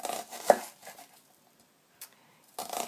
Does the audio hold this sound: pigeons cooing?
no